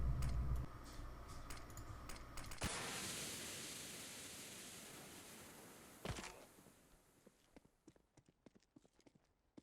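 In Counter-Strike: Global Offensive on the Mirage map, a smoke grenade lands and releases a loud, sustained hiss that slowly fades, followed by faint scattered ticks and clicks.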